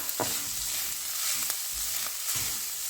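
Garlic frying in a pan as part of a spaghetti bolognese, a steady close sizzle with a few sharp scraping stirs, no voices.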